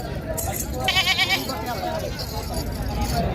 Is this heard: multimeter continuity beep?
no